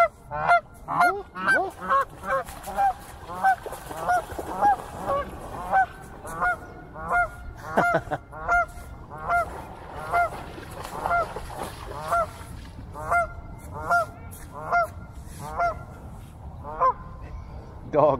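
A goose at Trout Lake in Vancouver honks over and over in a steady, loud, nearby series of nasal calls lasting the whole stretch, with light outdoor background noise underneath.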